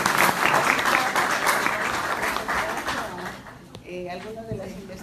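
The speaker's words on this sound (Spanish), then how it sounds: "Ahora vamos a darle un aplauso" A crowd breaks into sustained applause, dense clapping that gradually fades, followed by a voice speaking as it dies down.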